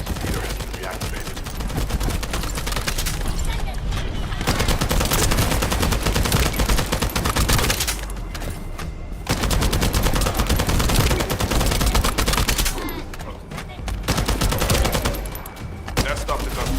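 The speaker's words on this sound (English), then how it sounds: "That stopped the gunfire" Gunfire rattles in The First Descendant video game, long loud bursts of rapid automatic fire broken by short pauses, with faint talk underneath.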